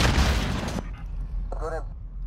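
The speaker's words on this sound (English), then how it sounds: "UAV beginning fire." Drone strike in a shooter video game: a loud burst of gunfire and booming explosions for the first second, then a quieter rumble with a brief electronic tone and a voice.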